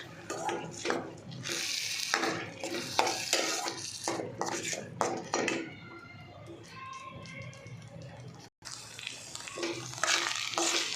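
Tomato puree for Mexican rice is stirred in a pan, a near, steady scraping and stirring with a light frying sizzle. Utensil clatter runs through it, and there is a brief break near the end.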